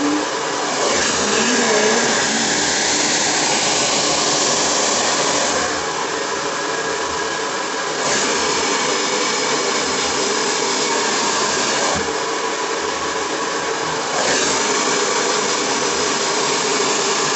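A hair dryer blows steadily on hair for the whole stretch, a loud continuous whoosh with slight dips in intensity as it is moved around the head, no talk over it.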